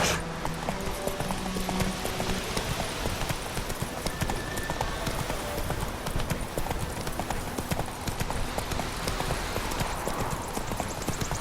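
Roach the horse's hooves clip-clop in a steady, rapid rhythm throughout, loud and close, in The Witcher 3 game world.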